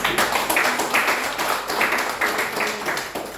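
Audience members at a leadership speaker session clap in uneven, rhythmic bursts, moderately loud and close, with no voices over it.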